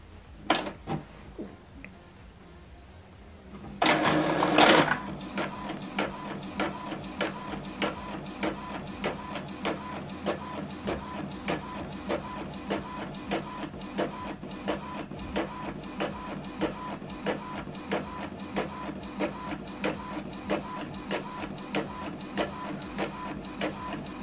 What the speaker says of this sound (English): To print it out, then you select print.